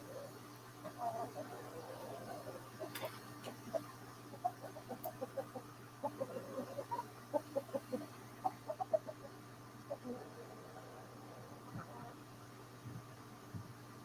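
A rooster and a flock of chickens on a home farm cluck in short, scattered bursts that bunch up in the middle, faint and fairly far off over a low steady hum.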